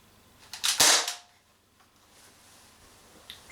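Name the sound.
Umarex HK MP5K CO2 airsoft gun firing BBs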